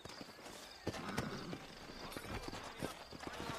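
Horse hooves clip-clop in the Red Dead Redemption video game, a run of quick, uneven thuds at close range with some faint background noise, and no talk over them.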